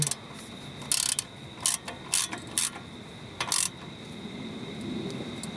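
Ratchet clicking while a bolt is tightened during an upper ball joint installation, several short bursts of close pawl clicks separated by pauses, over a steady room hum.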